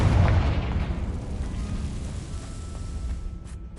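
A Confringo blasting spell in Hogwarts Legacy bursts with a loud, low booming explosion that rumbles and slowly decays into a fading roar.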